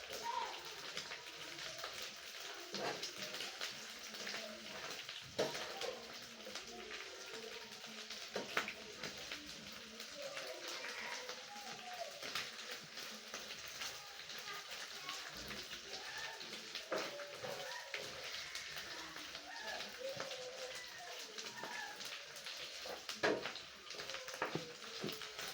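Small omena fish fry in a pan while being turned, a continuous soft sizzle and crackle, like light rain, with occasional scraping clinks from the utensil, fairly faint, with a person speaking over it.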